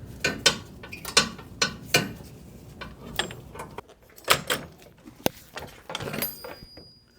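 Rhythmic mechanical ratcheting clicks from a jack being pumped under a 2003-2008 Honda Pilot during rear suspension work, close and crisp in uneven bursts with brief pauses between strokes.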